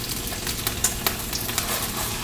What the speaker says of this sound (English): So into our skillet, to that same skillet, I'm going to add our orange marmalade.